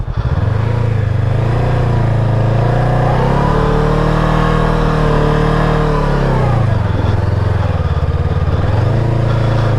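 A heavy motorcycle stuck in sand on a northern Saskatchewan riverbank revs loudly and continuously up close, the engine note rising, holding, dipping and climbing again as it strains.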